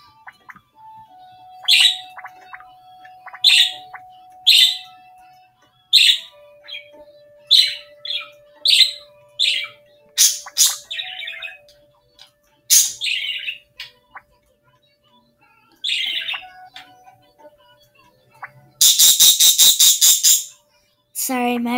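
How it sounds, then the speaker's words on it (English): A pet bird chirps in repeated bright, sharp bursts over about twenty seconds, with a faint sustained whistle underneath and a loud rapid squawking flurry near the end, all close and indoors. "Sorry, my bird is like spazzing out."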